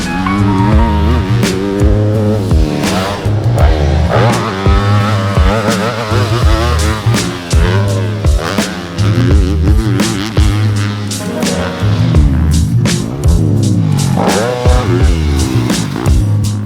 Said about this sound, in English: today we have the awesome opportunity to ride Phil Nicoletti's 2024 Yamaha YZ250F race bike